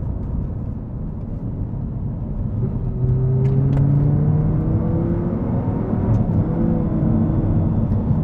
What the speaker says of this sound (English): presumably being scared witless by the sound of this V10